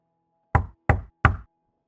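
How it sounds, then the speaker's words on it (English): Three firm knocks on a door in an evenly spaced sequence, each a hollow, resonant thud, close and loud against silence. "a simple knock at the door"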